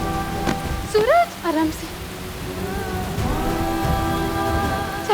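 A heavy downpour hisses steadily throughout as a broad wash of rain, with tonal background music and people talking over it.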